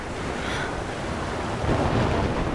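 Storm ambience from the Life is Strange video game, a steady, dense roar of wind and rushing noise that swells slightly toward the end, with no distinct thunderclaps and no talking.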